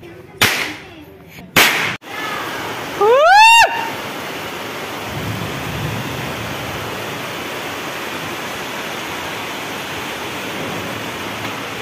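Heavy rain pours down as a loud, steady, even hiss for several seconds, preceded by a couple of sharp firecracker bangs and a rising whistling rocket.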